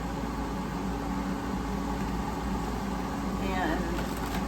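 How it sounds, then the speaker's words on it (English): A loud kitchen exhaust fan runs over a stove while food is cooked, a steady droning hum with a constant low tone and broadband hiss, close and continuous, with faint voices underneath. "Now do the loud exhaust fan."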